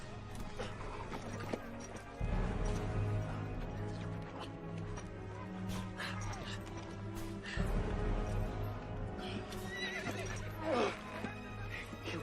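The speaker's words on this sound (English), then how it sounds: "Here's my horse." A horse whinnies loudly amid thudding hoofbeats and rustling movement, with a second neigh later and a low rumble underneath.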